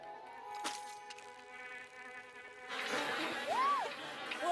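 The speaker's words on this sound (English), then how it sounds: "Bees! Bees! Not the bees!" A swarm of bees buzzing in an animated cartoon scene, a steady drone with a rising whine sweeping through it, moderately loud over a busy background.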